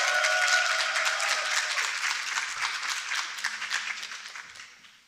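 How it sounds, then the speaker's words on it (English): Applause from a conference audience, a dense wash of many hands clapping that starts loud and gradually fades away over about five seconds, with no talk over it. "Let's give them a big round of applause"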